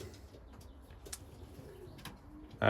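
Old cock racing pigeons in a loft give soft, low coos close by, with a few brief rustles and a louder bump at the end.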